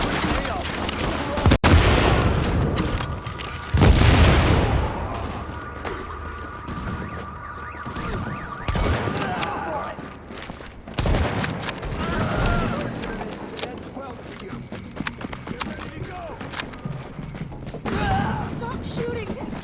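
Gunfire from the video game The Division, muffled bursts and thuds of shooting in a busy firefight, mixed with a loud impact and heard under ongoing talking.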